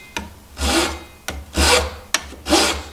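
A Japanese pull saw rasps through wood in three slow, even strokes, cutting a joint, each a broad scratchy swish with a short knock between, close up and with no voices.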